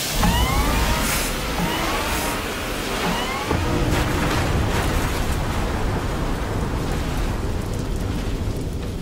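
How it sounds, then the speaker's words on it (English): Loud, roaring explosion effect opening a tech news segment, a sustained broadband rumble with crackling bursts that stays heavy and dense throughout, with no voices over it. "audio listeners obviously just hear the explosion"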